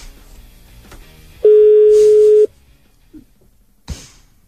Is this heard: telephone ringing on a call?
yes